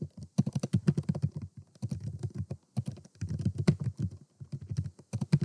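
Someone types on a computer keyboard in quick bursts of clicky keystrokes, close and clear, pausing briefly between short runs of typing.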